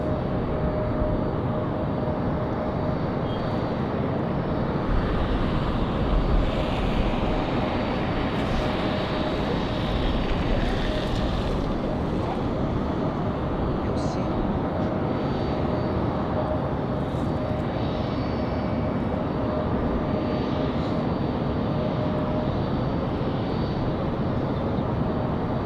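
Aer Lingus airliner arriving at Raleigh-Durham airport on a windy day, a continuous wash of jet engine noise with a faint whine running steadily from a distance, no voices.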